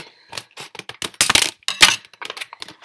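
Cardboard fitness challenge box being opened by hand, with irregular rustling, tearing and crinkling bursts, a couple of louder rips, close and without talk.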